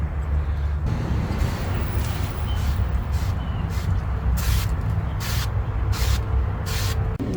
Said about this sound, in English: but I'm gonna spray some more.